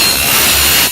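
A power notcher cutting aluminum tube gives a loud, close, harsh broadband grinding roar for about a second, then cuts off abruptly.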